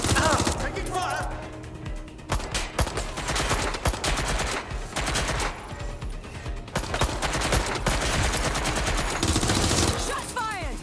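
Rapid gunfire bursts and volleys from the Watch Dogs Legion video game, loud and dense, crackling almost continuously across the clip with brief lulls between heavy flurries.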